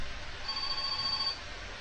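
A telephone rings in the video game My Summer Car: a faint, thin electronic tone that lasts about a second over a low steady background hum.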